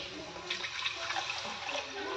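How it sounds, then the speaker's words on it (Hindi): Water is poured into well-fried masala with peas in a cooking pan for paneer gravy, a close, continuous splashing pour lasting the whole moment. "चलिए इसमें पानी डाल लें।"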